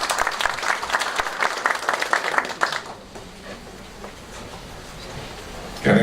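Audience applause at a forum with Senate candidates, a burst of many hands clapping for nearly three seconds before fading into quieter room noise.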